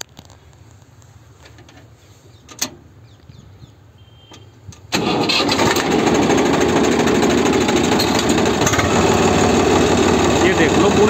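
A Swaraj 855 FE tractor engine roars to life after a few seconds of quiet, then runs steadily and strongly, its rough mechanical rumble filling the rest of the clip.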